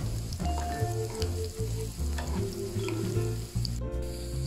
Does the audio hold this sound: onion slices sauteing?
yes